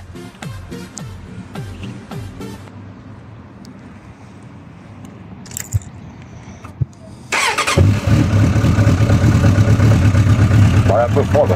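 A 2004 Suzuki GSX-F 750 motorcycle starts with a few clicks and a brief crank, then its cold engine catches and settles into a loud, steady, rumbling idle, preceded by someone speaking.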